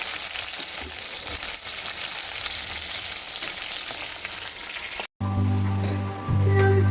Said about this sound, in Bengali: কত সুন্দরভাবে দেখো মাছগুলো লাল করে ভাজা হচ্ছে